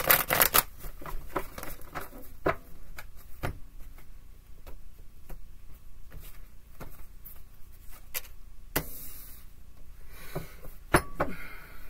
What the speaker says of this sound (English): Being told to shuffle that one more time.